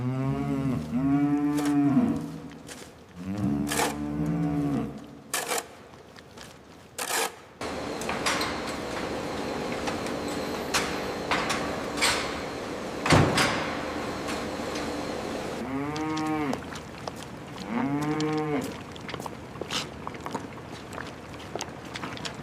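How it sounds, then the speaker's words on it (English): Cattle and calves moo loudly and nearby in several drawn-out, rising calls, with quieter mechanical clatter and knocks between the calls. "Keep an eye on the calves over there."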